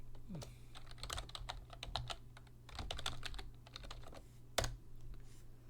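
Rapid computer keyboard typing of a terminal command, irregular clicks and key taps in quick bursts, close and moderately quiet, with a steady low hum underneath.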